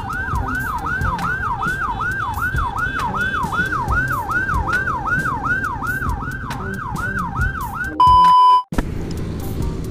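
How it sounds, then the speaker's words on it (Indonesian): A loud, close police car and ambulance siren wails in a fast, regular rising-and-falling cycle, then breaks into a brief blaring steady tone before cutting off. "soalnya ada mobil polisi, ada ambulan bukan"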